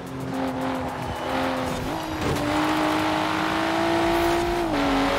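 A Volvo V60 T6 engine revs hard while racing in the Forza Horizon 4 video game, a loud continuous engine drone that rises in pitch, drops briefly at a gear shift, then climbs again, with tires hissing underneath.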